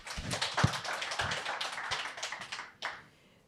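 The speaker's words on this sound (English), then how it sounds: "please, row of applause for everyone on the stage today" Conference audience on a food-industry event day claps for the speakers on stage, a short burst of distinct, sparse hand claps that thins out and stops after about three seconds, with no talking.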